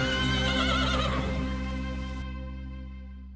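A rodeo horse whinnies loudly and close by, one long shrill neigh that trails off into quieter fading tones.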